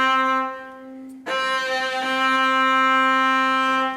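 A cello bowed with heavy pressure near the bridge gives a thick, gritty sustained tone, a brief quieter stroke, then a strong, raspy note held steadily up close.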